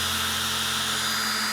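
Small electric drill motor spinning an engine oil pump to prime a 1971 Plymouth Cuda engine, a steady continuous whine with a low hum that holds even without bogging down, alone with no talk.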